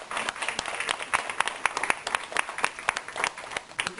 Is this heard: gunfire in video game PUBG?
no